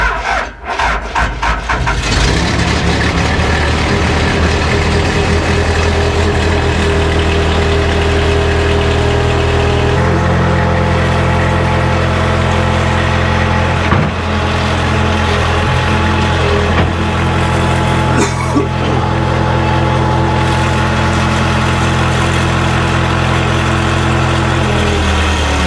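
The diesel engine of a Case 580C backhoe cranks and fires right up, then settles into a loud, steady rumbling idle close by.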